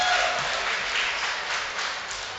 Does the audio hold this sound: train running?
no